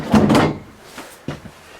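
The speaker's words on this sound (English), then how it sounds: "It also comes with a nice pull-out drawer." A pull-out drawer in a 2013 Sabre fifth wheel camper slides and knocks, giving two quick close thumps, a soft rattle, then one more sharp thunk, all close by and without speech.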